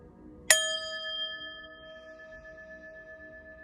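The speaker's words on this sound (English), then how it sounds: "I'm gonna ring this bell" A single bell struck once, ringing with a bright metallic tone that hangs and slowly fades over a few seconds in a quiet room.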